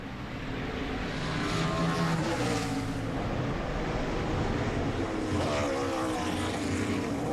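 A NASCAR race car on a road course runs loud and continuous, its engine roaring as it works through the gears, accelerating and easing off toward the final slow corners, with no talk over it.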